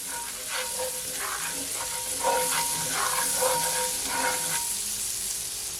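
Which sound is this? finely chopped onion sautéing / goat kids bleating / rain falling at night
finely chopped onion sautéing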